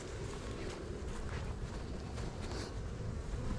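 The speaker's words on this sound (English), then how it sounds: "The bees will start coming and going from there." Honeybees from a freshly installed package hive buzz around the entrance in a steady, dense hum, close and continuous.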